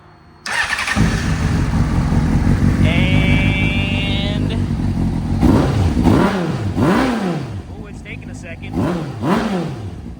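A Honda CBR600RR sport bike engine cranks and catches, then idles loudly up close before several sharp revs that climb and fall, with someone talking over it.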